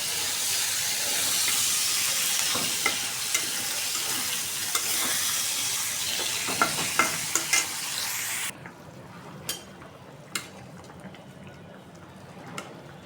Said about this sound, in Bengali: এখন মাছগুলো দিয়ে দেবো। মাছগুলো দিয়ে একটু কষাবো।